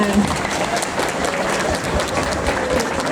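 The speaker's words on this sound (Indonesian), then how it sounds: "Tepuk tangan yang meriah semuanya" Steady, lively applause from a school audience at a stage podcast event for National Education Day, dense clapping that holds evenly throughout.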